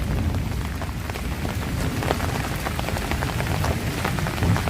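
Steady rain falls on surfaces, a dense hiss of drops with scattered louder patters, close and continuous, no voices.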